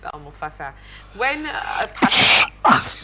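A person sneezes sharply twice near the end, loud and close, right after someone speaks.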